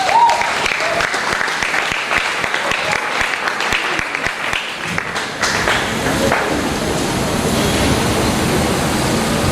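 An audience at a music lecture during a national music summit claps loudly and steadily for several seconds, then the applause thins into a softer, washy crowd noise.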